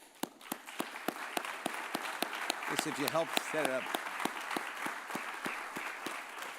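Applause from an audience at a service symposium for volunteers and board members: a steady run of sharp, fairly close claps that keeps going while a person speaks over it.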